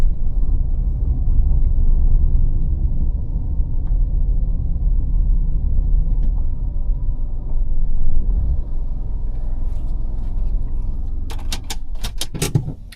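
A car engine runs steadily while driving during a beginner's lesson on pulling away in first gear and stopping, a continuous low rumble throughout, with a few brief jingling clicks near the end.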